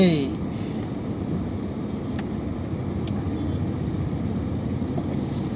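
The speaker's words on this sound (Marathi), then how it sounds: "बघा ट्रॅफिक" Road traffic on a bridge over a river in Pune fills the air with a continuous, fairly loud rumble of passing cars and engines, with no talk standing out above the steady drone.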